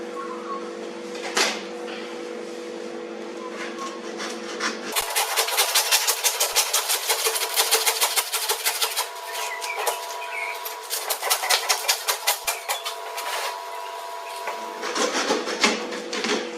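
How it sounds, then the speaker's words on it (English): A hand saw cuts across the back side of beef ribs, its close, rough strokes rasping in a steady back-and-forth rhythm, loud and repeated over several seconds with a machine hum underneath at the start and end. "Going to get the saw onto this and just tidy the back side of the ribs up there."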